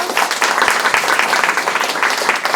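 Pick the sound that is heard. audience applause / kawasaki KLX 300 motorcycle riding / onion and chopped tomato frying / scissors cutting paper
audience applause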